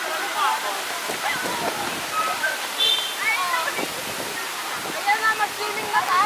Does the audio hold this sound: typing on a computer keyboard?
no